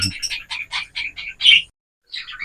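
Cockatiels in a breeding cage give a quick run of short, bright chirps, close and fairly loud, then a brief pause and another cluster of calls.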